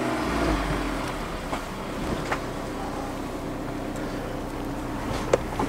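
A Honda S2000 on a test drive with new brakes and a new front bumper, heard from inside as a steady low engine and road drone with wind noise and a few small knocks, with no talking.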